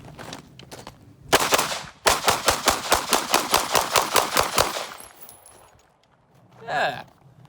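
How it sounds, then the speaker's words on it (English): An HK P30 pistol fired at a shooting range: one loud crack, then a fast string of about a dozen evenly spaced sharp shots, close and dominant, followed by quieter handling noise. "The P30 is so easy to shoot."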